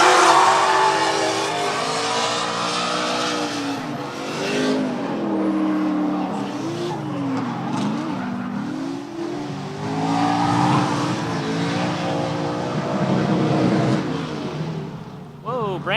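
Two drift cars, a Nopi S14 and a Victory Motorsports MK3 Supra Turbo, compete at a professional drift series event, with engines loudly revving and wavering through long slides and tires squealing, under continuous commentary.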